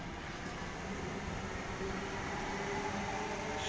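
A four-car Sydney suburban train, set T105, passing at Concord West station: a continuous rumble and rolling rail noise, fairly steady and growing slightly louder, with no talking.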